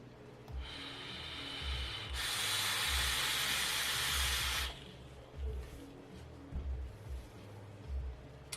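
Vaping Watermelon Rush e-liquid on a dual-coil mod at 70 watts, airflow wide open on a single-hole barrel: a close, steady hiss and crackle of a long drag lasting a couple of seconds, then soft exhale and handling noises.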